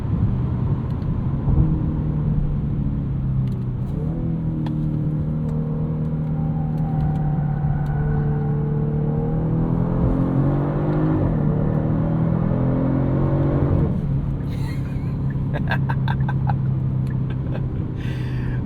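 2024 Genesis G70 3.3T twin-turbo V6 accelerating in sport mode, a steady cabin drone with engine tones climbing in pitch through the gears over road rumble, a brief gear-change dip near the end.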